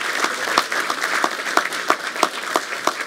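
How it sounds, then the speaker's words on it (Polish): Applause from an audience at the academic year inauguration of Politechnika Koszalińska, with brisk clapping and sharp claps standing out nearby. "Proszę państwa, wielkie brawa dla wszystkich osób zaangażowanych w ten nasz festiwal."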